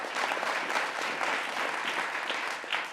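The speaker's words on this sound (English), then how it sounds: "a round of applause for our judges" Steady audience applause for the judges at a food pitch competition, a dense patter of many hands clapping at moderate volume without a break.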